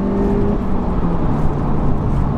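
An Audi S1 accelerates on an open road, its engine holding a steady, loud droning note with a faint rise in pitch and constant road and wind rumble beneath.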